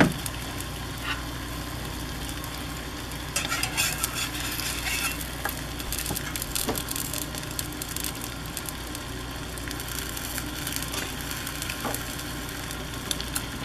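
An egg fries in a skillet, giving a soft, steady sizzle at low level with occasional faint clicks and scrapes from a spatula against the pan, and a low background hum underneath.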